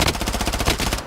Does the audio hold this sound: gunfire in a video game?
yes